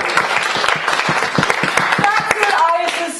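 Applause and clapping from a theatre audience at an 18th-century storytelling show, a dense burst of hand claps with a few cheers and voices mixed in, steady and close throughout.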